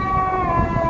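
Emergency vehicle sirens, including an approaching ambulance, wail steadily through city traffic near Chicago's Grant Park lakefront, a sustained, loud rising tone close by over low traffic rumble.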